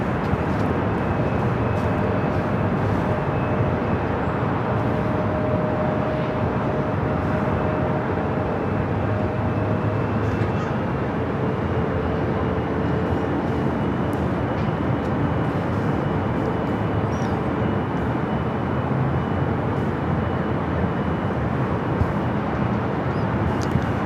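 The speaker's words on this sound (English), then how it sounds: "That is that Delta flight that came in from Portland, slowly but surely making its way into the gates." A Delta jet arriving from Portland taxis slowly toward the gates at Los Angeles International Airport, a steady, continuous engine rumble and hiss that holds at an even level throughout, with no voices.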